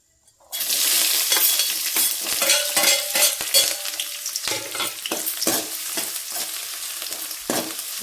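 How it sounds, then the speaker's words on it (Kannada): Chopped onion and green chillies drop into hot oil with curry leaves, bursting into a loud, close sizzle that keeps crackling and popping, with sharp spatula clacks against the pan as it is stirred. "ಈಗ ಎಣ್ಣೆ ಕಾದ್ಮೇಲೆ ಈರುಳ್ಳಿ ಮತ್ತು ಇದು ಹಸಿಮೆಣಸಿನ್ಕಾಯಿ ಹೆಚ್ಚಿಟ್ಕೊಂಡಿದ್ದೀನಿ, ಇದನ್ನು ಹಾಕ್ಕೊತೀನಿ ಅದಕ್ಕೆ"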